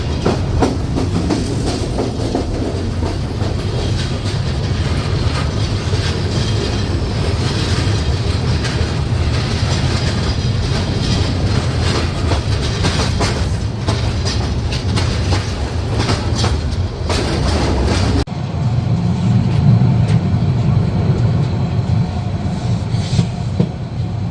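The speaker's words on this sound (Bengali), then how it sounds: "যমুনা রেলওয়ে সেতু দিয়ে আমরা যমুনা নদী পাড়ি দেব" The Burimari Express rumbles loudly and steadily with rhythmic clickety-clack of wheels over rail joints while crossing the new Jamuna railway bridge, the tone shifting to a deeper, hollower roar partway through.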